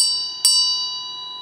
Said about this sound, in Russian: Помимо чаши используется вот такой тибетский колокольчик